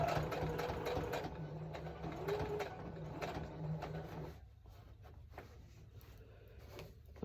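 Sewing machine stitching a row of a quilt, a steady close mechanical whir with rapid needle clatter that runs for several seconds, then drops to a quieter low hum with a few scattered clicks.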